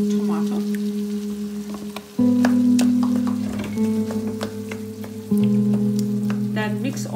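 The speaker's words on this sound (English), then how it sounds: "next I'm going to add tomato" Tomato frying in a pan with lamb mince for stuffed peppers, a loud steady sizzle with scattered spatter and stirring clicks, alongside a constant low hum that steps up and down in level.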